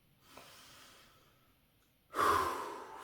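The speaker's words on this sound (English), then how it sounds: "Deep breaths." Deep breathing during a guided cold shower breathing exercise: a slow, soft inhale followed by a louder, forceful exhale, close and alone with no talking.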